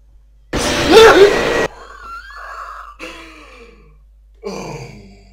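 Heavy, raspy breathing of an animatronic lurking behind a closed door in Five Nights at Freddy's 4, one long loud exhale followed by fainter wheezing breaths in the quiet.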